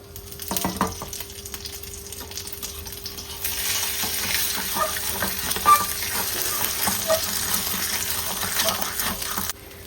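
An egg sizzles and crackles steadily in a hot pan, with a few clanks of a utensil near the start and the frying growing louder partway through.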